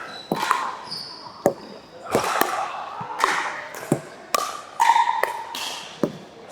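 A pickleball is struck back and forth during a drilling session, with sharp, hollow pops arriving at an irregular rally pace, each followed by a brief ringing decay.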